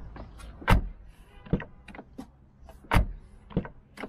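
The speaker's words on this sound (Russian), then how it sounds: "Ну, как закрывается дверь." A Lada Granta FL 90 hp car door with worn lock latch bushings is worked repeatedly, giving several distinct close thuds and clunks with faint creaks in between, no voices.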